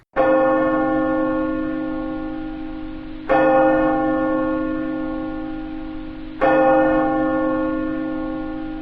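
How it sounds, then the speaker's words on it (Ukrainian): A heavy alarm bell tolls three times as a radiation danger alert, at slow, even intervals, each strike ringing out and decaying before the next, with no voices. "Сигнал радіаційної небезпеки це дзвін у набат"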